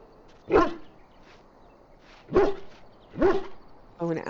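A dog barks in the modded Dragon Age Origins video game: three separate sharp barks spaced a second or two apart, then a shorter yip-like burst at the end, moderately loud over a quiet game background.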